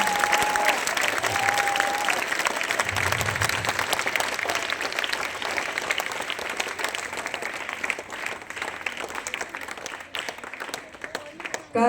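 Sustained thunderous applause fills a Republic Day school event, a dense crowd clapping steadily and loudly with voices mixed in beneath, tapering slightly toward the end.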